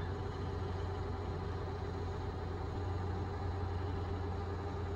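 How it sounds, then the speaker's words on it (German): A steady, low truck engine rumble from the video game Euro Truck Simulator drones continuously with a faint metallic, tinny edge, unchanging throughout and with no voices. "Der Motor hört sich irgendwie komisch an."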